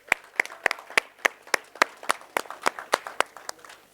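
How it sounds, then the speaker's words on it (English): A summit audience at an ICT event claps in a sparse, uneven patter, roughly a dozen distinct sharp claps spread over four seconds, moderately close and without talk. "Give yourselves one more round of applause."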